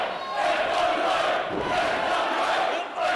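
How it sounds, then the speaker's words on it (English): A wrestling crowd at an FWA British show roars and chants continuously, a dense, loud wash of cheering and shouting that fills the whole stretch. "And you can hear the crowd going nuts for this FWA action."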